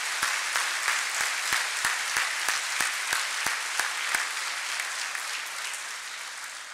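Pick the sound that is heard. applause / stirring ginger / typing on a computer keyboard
applause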